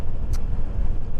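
A Shadow 750 motorcycle on the move gives a loud, continuous low rumble of engine and road noise, steady throughout with one brief sharper rustle near the start.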